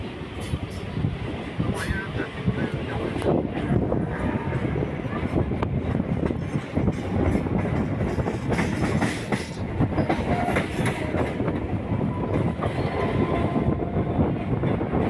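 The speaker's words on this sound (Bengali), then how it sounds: "ট্রেনটা লোকাল হলেও কী হবে, দেখো খুব সুন্দর স্পিড তুলেছে, হেভি স্পিডে যাচ্ছে ট্রেনটা" A local train on the Sealdah to Habra line runs at high speed, its carriages rattling with steady clickety-clack wheel rhythm and a constant roar heard from inside, continuous throughout.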